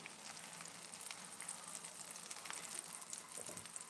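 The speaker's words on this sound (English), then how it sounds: "There's the sizzle." Cheese-filled pastry frying in hot oil gives a steady, close crackling sizzle with dense popping spatter, continuous and even throughout, no voices over it.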